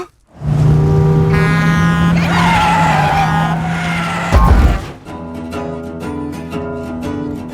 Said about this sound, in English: As he skids across the road on a shattered piece of glass